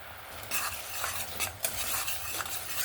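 Torn bay leaves, cinnamon, cracked green cardamom and a little cumin tempering in hot oil for a Bengali chicken and potato curry, with a steady close sizzle and a few spoon stirs and scrapes.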